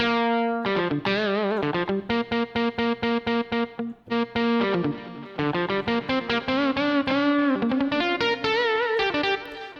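A distorted electric guitar sample from a Yamaha arranger keyboard plays crunchy, rhythmic chords alone, with short choppy stabs and a few sustained notes, loud and close.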